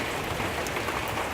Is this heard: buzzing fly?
no